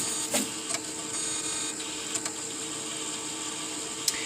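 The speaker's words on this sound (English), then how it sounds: "it starting up and reading the disk, and it's all entirely automatic in there" A SuperDisk floppy drive spins up and reads a disk automatically, giving a steady mechanical whir with faint clicks and a few sharp ticks at close range, no voices.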